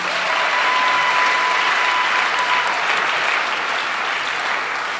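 A church congregation gives steady, loud applause in honour of an organizing committee, many hands clapping in a dense, even roar for several seconds.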